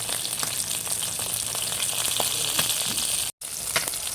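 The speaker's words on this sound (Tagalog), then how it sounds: "bali ako po ay nagluluto dito ng tulingan. Akin na po itong piniprito." Tulingan, or bullet tuna, fries in a pan with a loud, steady sizzle and crackle up close, broken only by a split-second drop to silence near the end.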